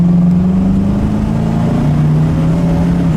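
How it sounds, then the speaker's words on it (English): A 1969 Mercury Cougar with a 351 two-barrel V8 and 2.25 to 2.5 inch dual exhaust rumbles loud and close, its engine revving in a steady, deep drone. "That dual exhaust, like I said, Gary's does a great job with the dual exhaust."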